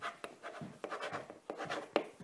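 A pen signs a document at close range, making a series of short scratchy strokes in irregular bursts with small pauses between them.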